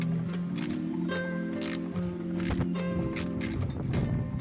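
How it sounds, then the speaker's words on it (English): Steady ratcheting and clicking of a hand ratchet backing out bolts from the plastic trim and seats of a Chrysler Grand Voyager minivan, continuous and close, with faint metallic rattles and no talk. "just taking the bolts out with this ratchet"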